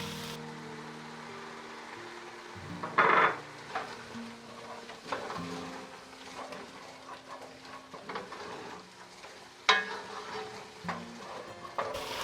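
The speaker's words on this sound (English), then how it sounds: "So now I'm just going to let the ground beef and onion cook all together" Ground beef and onion fry together in a pot, a steady low sizzle with occasional stirring scrapes and clinks, close and moderately quiet with no talk.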